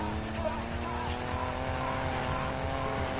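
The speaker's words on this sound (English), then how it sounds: "I'm playing Need for Speed." A car races in the video game Need for Speed, a steady loud engine drone with sustained tire squeal and skidding, continuous and close throughout.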